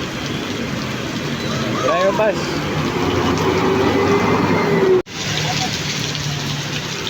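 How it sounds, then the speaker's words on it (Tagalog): Heavy rain pours down steadily and loudly as a broad, constant hiss with a dark evening outdoor feel, while someone talks over it. "Lumakas na agad ang ulan."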